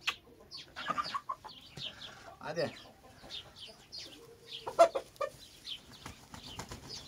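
A hen clucks in short bursts near at hand, with people talking intermittently around it; a rooster is also present.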